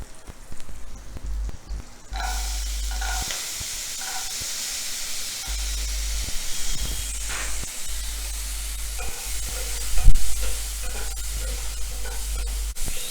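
Soaked peanuts with curry leaves and chillies are sautéed in a pan, a steady hissing sizzle starting after a quieter opening, with occasional stirring scrapes and a brief louder burst near the end, close and without speech.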